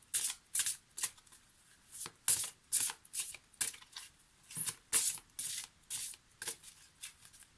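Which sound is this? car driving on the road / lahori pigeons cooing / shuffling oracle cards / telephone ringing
shuffling oracle cards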